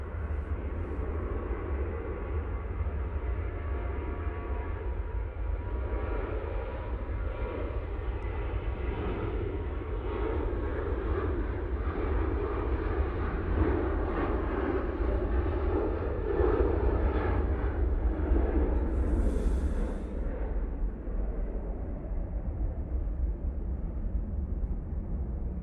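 A Ryanair jet taking off from Manchester Airport for Belfast produces a long, continuous low rumble that thickens and swells toward the middle, then eases, heard alone at moderate loudness.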